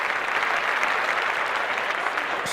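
Applause from a small podcast audience, a dense steady patter of many hands held at a moderate level for a few seconds with no talk over it.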